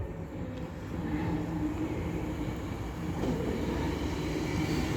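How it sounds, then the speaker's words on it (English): A Class 390 Pendolino electric train for Avanti West Coast pulls into Stoke-on-Trent station, a fairly quiet, steady rumbling roll with a low hum that swells slightly, heard from the platform with no talking. "The next train to be coming in will be another Class 390 Pendolino for Avanti West Coast"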